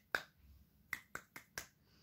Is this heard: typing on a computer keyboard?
no